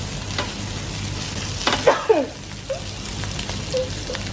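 Onions and mushrooms fry in a pan with a steady close sizzle, broken by a few louder scraping stirs in the middle; faint voices murmur in the background.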